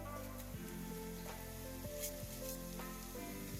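Cumin seeds sizzle in hot oil in a cooking pot: a soft, steady frying hiss with light crackles throughout, faint and close, with no talk.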